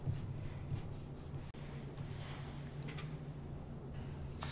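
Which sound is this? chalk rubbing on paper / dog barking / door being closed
chalk rubbing on paper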